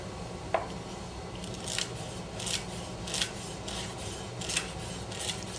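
A knife slicing a carrot into even-thickness pieces in a steady continuous motion, a series of soft crisp cuts against the board repeating roughly every second, close and quiet over a faint background hiss.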